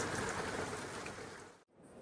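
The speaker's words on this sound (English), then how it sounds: "slushy rain. Mainly rain." Slushy rain falls steadily outdoors at 36 degrees, a close, even hiss of wet drops on a barndominium construction site that cuts out abruptly near the end.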